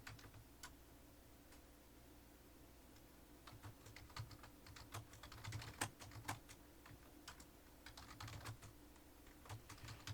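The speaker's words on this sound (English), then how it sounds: "I'll let you watch this while I'm typing out this message." Someone types a message on a computer keyboard, producing a faint, irregular run of quick key clicks and taps over a low background hum.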